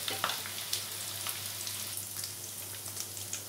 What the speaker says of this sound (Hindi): इसको हमें लगातार चला के 2-3 मिनट फ्राई करना है गोल्डन